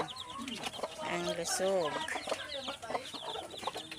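Chickens cluck and chirp close by, a busy mix of large hens and chicks, with a brief spoken phrase in Filipino mixed in.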